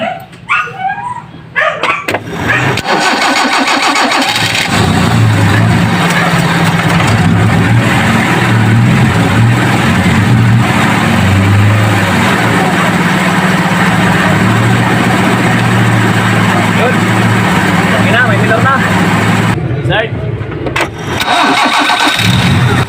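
A Kia Pride EFI car engine cranks and starts after a brief pause, then idles loudly and steadily at close range for most of the time before cutting off near the end.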